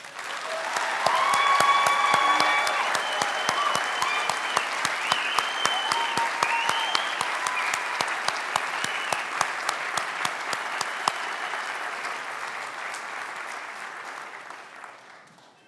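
An audience applauds 2022 Ivy Day Awards recipients, graduates being congratulated at a ceremony. The clapping is dense and sustained, peaks early, holds steady, then thins and fades at the end, with no talking over it.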